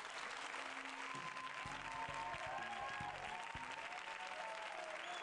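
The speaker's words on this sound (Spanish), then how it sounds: "Si, si aplauden, los escuchará, pero no los verá." An audience in the stands applauds during a hypnosis stage show, a steady wash of clapping that sounds somewhat distant and muted, with a few low thumps underneath.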